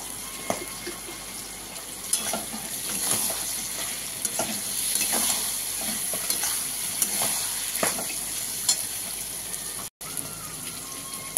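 Prawns sizzle and fry in a pan for chingri pasta with soy sauce, stirred with steady scraping strokes under a constant close hiss, with occasional louder clicks of the utensil.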